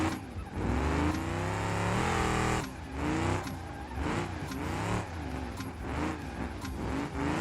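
A drift car engine in the BeamNG driving game revs hard and repeatedly, rising and falling in pitch with brief lifts between pulls, loud and close with no talk.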